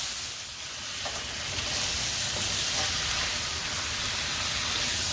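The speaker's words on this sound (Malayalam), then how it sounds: "നമുക്കൊന്ന് ഇളക്കി കൊടുക്കാം." Beef bone curry masala being stirred in a pan, a steady close sizzle and hiss with soft scraping, continuous and without talk.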